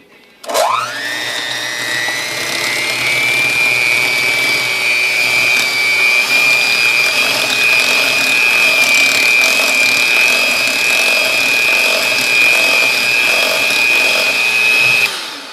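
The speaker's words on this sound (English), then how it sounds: "Just added the second egg in, and then I'm going to beat that generously too." An electric mixer beats eggs into cream cheese marbled brownie batter, a loud steady motor whine that rises in pitch as it spins up and then drones continuously until it cuts off near the end.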